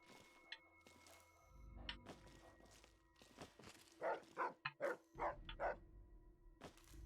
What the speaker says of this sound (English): Woof, woof, woof, woof, woof.